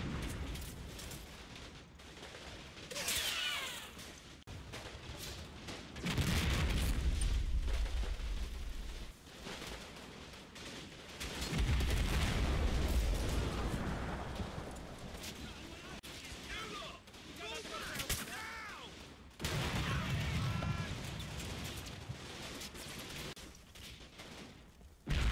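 Combat Mission: Battle for Normandy game audio with a King Tiger tank and artillery firing: repeated heavy booms and rumbling blasts spaced through the stretch, mixed with crackling gunfire and a voice talking over the battle.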